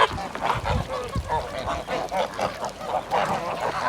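Guinea fowl call loudly and repeatedly nearby, a steady run of harsh, rhythmic honking cries with no pause, in a poultry pen where ducklings are also kept.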